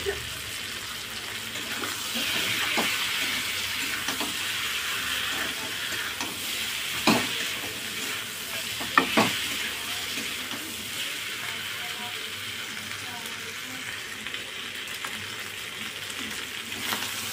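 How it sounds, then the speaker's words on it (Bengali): Fried crab pieces are stirred into sautéed cauliflower in a pan, giving a steady sizzle with scraping spoon strokes and a few sharper clanks against the pan partway through. "তো এবার আমি কাঁকড়া ভাজাগুলো ওর মধ্যে দিয়ে এটাকেও ভালো করে কষিয়ে নেব"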